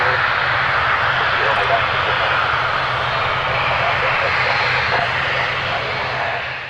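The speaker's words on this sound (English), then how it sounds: "The plane behind it then had to go around." An airliner going around at Gatwick roars with a steady, loud aircraft engine rumble that holds for several seconds before fading slightly at the end.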